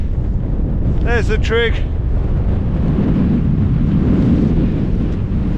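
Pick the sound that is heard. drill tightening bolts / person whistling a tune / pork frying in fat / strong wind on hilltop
strong wind on hilltop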